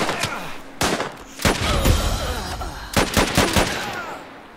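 Gunfire in the video game Last Train Home rings out in several loud bursts of shots and volleys, spaced irregularly across the scene.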